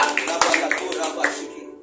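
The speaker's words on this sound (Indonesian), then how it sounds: "Shall we put our hands together and praise" A church congregation claps their hands in praise, a quick, fairly close run of sharp claps lasting under two seconds with voices mixed in.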